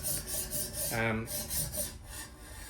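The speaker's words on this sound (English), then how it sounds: "It's just the metal of diamonds grinding away on steel." Diamond sharpening stones on a Tsprof K03 sharpener grind against steel in quick rhythmic back-and-forth rasping strokes, close and fairly quiet, with one brief higher ringing scrape in the middle.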